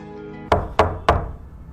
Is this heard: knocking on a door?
yes